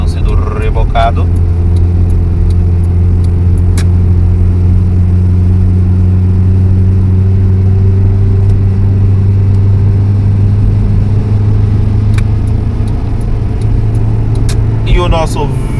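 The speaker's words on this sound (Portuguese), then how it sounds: "E o nosso velho Civic está apanhando para subir." An old Honda Civic strains up a hill on a long highway drive, its engine holding a loud, steady drone throughout with road noise.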